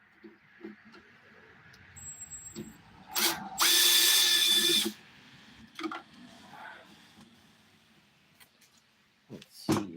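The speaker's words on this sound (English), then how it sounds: "I'll just put that in the drill here." A power drill with a T20 bit whirs loudly for about a second amid scattered clicks and handling noises, with a short squeaky burst before it.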